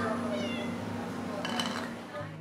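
A cat meows briefly over a steady background hum and faint chatter at De La Salle University, the call soft and moderately close.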